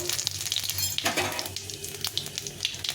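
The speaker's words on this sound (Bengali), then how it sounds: "এখন এতে দিয়ে দেবো একটা শুক লঙ্কা কাটিয়ে দেবো আর হাফ চামচ মতো জিরে ফোড়ন দেবো" Dried red chili and cumin seeds crackle and sizzle in hot oil, with busy popping and spitting close to the pan and a faint clink of a utensil stirring.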